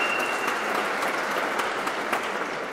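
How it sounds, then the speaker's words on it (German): Audience applause at a German cultural handover ceremony on stage, a steady dense wash of clapping filling the hall, loud and even throughout with no voices over it. "Ja, guten Applaus."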